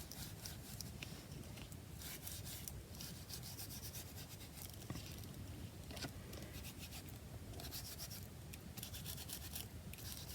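A cloth rubbing paint into collage packaging gives a steady, close scrubbing and swishing with continuous friction and a few light bumps, and no voices are heard.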